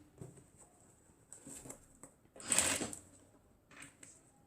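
A sewing machine stitches a reversible fabric face mask with a filter pocket in short runs, the needle tapping in quick bursts with pauses between and a louder, denser burst midway, close and without talk.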